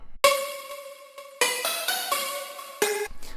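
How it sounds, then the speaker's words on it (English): Synthesized robotic voice-like tones play in short sustained bursts, buzzy and harmonically rich, with abrupt stops and starts, no speech. "next comes the robot voice"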